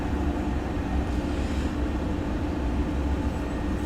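An MD-11 airliner in a flight simulator game roars steadily as a continuous, loud broadband engine and air rush while climbing, with no voices.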